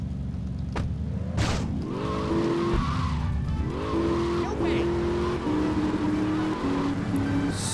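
Banshee sports car in GTA Vice City revving and skidding with tire squeals, engine pitch rising and shifting through gears, loud and close with game sound under it.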